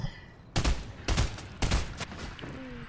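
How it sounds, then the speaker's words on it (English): Fortnite gunfire: three sharp, loud bursts of shots about half a second apart, close by, then a fading tail with a faint tone. "Someone is shooting me."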